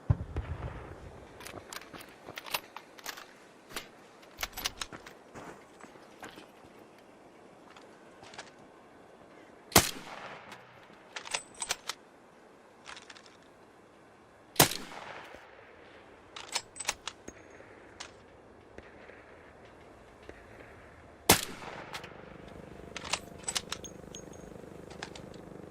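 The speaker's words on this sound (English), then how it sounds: "Yes, the people are definitely shooting him down there." Gunfire from other players in the game ARC Raiders, heard as scattered sharp shots and short bursts at a distance, with a few loud near cracks standing out over a quiet background.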